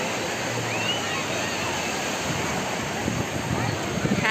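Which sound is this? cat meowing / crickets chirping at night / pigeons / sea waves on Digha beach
sea waves on Digha beach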